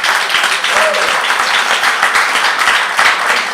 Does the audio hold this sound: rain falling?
no